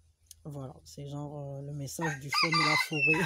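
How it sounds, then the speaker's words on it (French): A rooster crows outdoors in the background while a person speaks French over it, the crowing running through most of the short stretch. "Il y a le coq qui chante."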